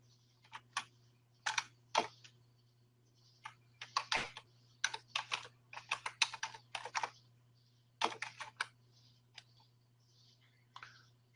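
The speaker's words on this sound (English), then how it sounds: "I'm going to be quiet as I type this here" Close, quiet clatter of keys on a computer keyboard as a website address is typed, irregular bursts of taps with short pauses between, over a faint steady low hum, no talking.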